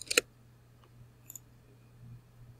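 A computer mouse clicks on an icon in NetSuite software: a sharp double click at the start, then a fainter pair of clicks a moment later against a quiet hum.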